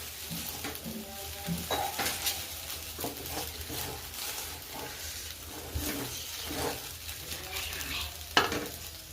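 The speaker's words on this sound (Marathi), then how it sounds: "आता आपण मिक्स केले सगळे एकत्र" A spoon stirs sabudana khichdi (tapioca pearls) in a hot pan, giving continuous soft scraping and gentle sizzling close up, with scattered clinks of utensil against metal and no talking.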